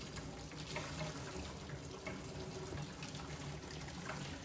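Boiling water drains in a steady rushing pour, splashing into a sink, continuous and fairly close, with no voices.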